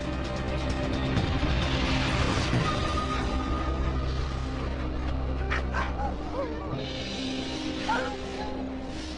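Sled dogs in Greenland bark, yip and whimper in a loud, close chorus that thins out toward the end, with a voice speaking over them at times.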